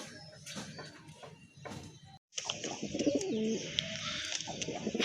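Pigeons coo softly nearby in low, throaty murmurs, with a brief silent gap midway and some background rustling.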